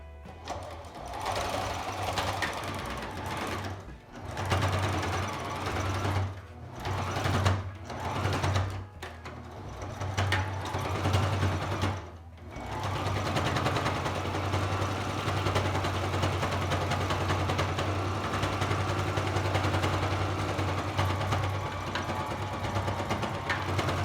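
Sewing machine stitching a homemade surgical face mask at a short stitch-length setting, running loud and steady with a low motor hum throughout, broken by a few brief pauses early on before one long continuous run.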